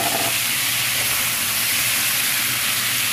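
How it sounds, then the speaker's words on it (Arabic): Shrimp sizzling in a pan with sautéed garlic, a loud, steady frying hiss that runs unbroken throughout. "بنشوح الثوم وهنحط عليه الشريمب"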